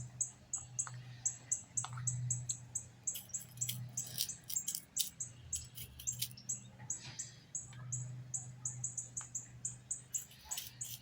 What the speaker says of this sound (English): That is a bird that you're hearing. Sounds like it's almost like a telegraph, but it's a bird.